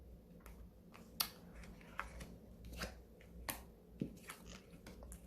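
Tarot cards are drawn and handled in a quiet room, giving soft, scattered snaps, flicks and papery rustles spaced irregularly over a faint background.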